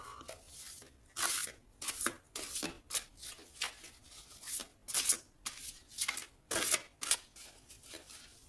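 Tarot cards are shuffled and cut by hand, a series of close, crisp riffling and slapping bursts coming in an uneven rhythm with brief gaps, fairly soft overall.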